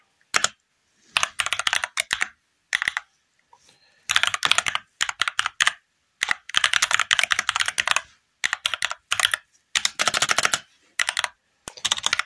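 Close, crisp clatter of a computer keyboard as a git clone command is typed, arriving in quick irregular bursts of keystrokes separated by short silences.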